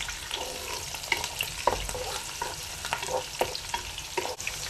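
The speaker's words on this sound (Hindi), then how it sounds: "प्याज मोटे मोटे काट के मैंने तेल में डाल दिए हैं, इसको सिर्फ फ्राई करना है ऑयल में।" Thickly cut onions fry in oil with a constant crackling sizzle, punctuated by irregular stirring scrapes and clacks, close and moderately loud throughout.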